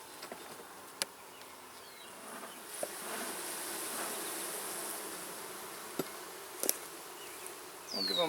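Honeybees buzz from an opened hive during a routine inspection, a steady soft drone with a few sharp clicks and knocks, fairly faint and without talk.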